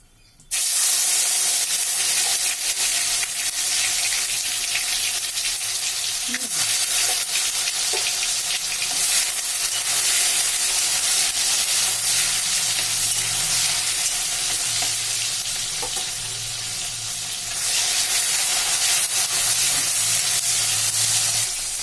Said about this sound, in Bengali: এখন আমি কুচিয়ে রাখা টমেটো দিয়ে দিচ্ছি।